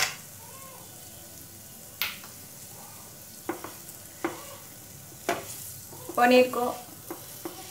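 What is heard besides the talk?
paneer frying with masala in a pan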